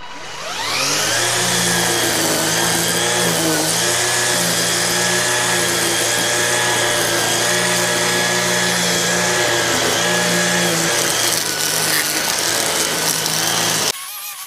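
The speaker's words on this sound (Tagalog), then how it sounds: "tapusin ko na lang po yung ating paggupit ng lawn grass doon" A lawn mower cuts long lawn grass in a yard in Edmonton, Alberta, its engine loud and close in a steady drone with a rhythmic wavering as it pushes through the thick growth.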